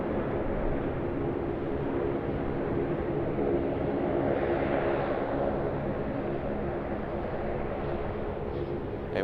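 Aircraft noise at Sydney Airport, with several domestic jets moving around the field. A steady, fairly loud broadband roar holds for the whole stretch and swells slightly in the middle, with no voices.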